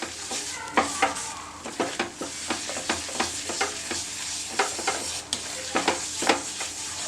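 A spoon scrapes and stirs flour as it roasts in a pan, producing a soft, steady sizzle broken by repeated scraping strokes at close range, with no voices.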